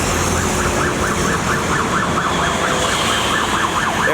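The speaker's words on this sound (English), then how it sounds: "every time I see an ambulance" An ambulance siren wails continuously along a busy street near a Bangkok weekend market, its loud rising and falling tone over steady traffic noise.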